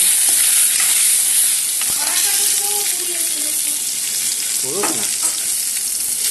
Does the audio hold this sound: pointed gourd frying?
yes